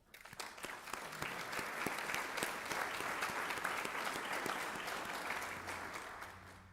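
A crowd at a college student awards reception applauds steadily, a dense wash of clapping that builds quickly, holds for several seconds and begins to taper off at the end.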